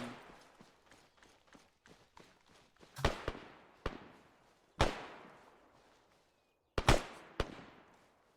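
Gunfire in ARMA 3 as rounds are shot out through windows of town buildings: sharp, sporadic cracks, some close and loud, others fainter with echoing tails, separated by quiet gaps.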